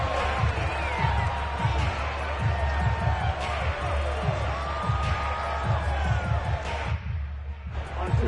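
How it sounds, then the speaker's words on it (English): An NFL stadium crowd in a Bengals game shouts and roars continuously while watching a replay, a dense loud din with scattered yells, thumping beats and whistles, briefly dipping near the end. "Plenty of shouts from this crowd as they watch the replay."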